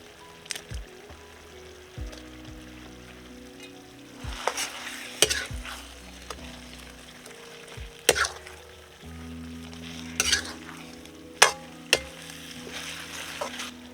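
Fried cauliflower pieces for gobi manchurian are stir-fried in a pan, with loud scraping stirs and spatula knocks over a steady sizzle, the bursts recurring every few seconds.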